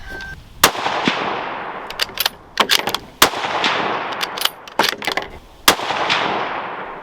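A .308 rifle fires during an outdoor ammunition accuracy test: a series of about eight loud, sharp shots at irregular intervals, each followed by a rolling echo that trails off before the next.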